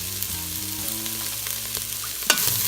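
Chickpeas frying and sizzling in an Instant Pot, a steady close hiss with faint stirring scrapes and a sharper clatter near the end, no talking.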